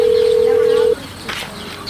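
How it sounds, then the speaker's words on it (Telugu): A single steady telephone tone sounds for about one second as a call is placed, then cuts off into faint background noise and a short rustle. "ఒకసారి ఫోన్ చేసి ఎట్టున్నాడేమో చూద్దాం"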